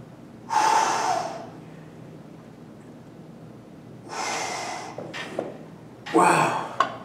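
Sharp, forceful breaths during an upright row workout done with one leg raised, three loud bursts of exhalation and inhalation close to the mic, separated by quieter pauses.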